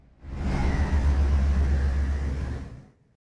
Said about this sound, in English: Some of the sounds that achieve this are the sounds of the car and truck